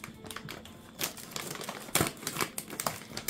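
Scissors cut open packaging up close, giving a quiet, uneven run of snips, crinkles and rustling plastic with a few sharper clicks.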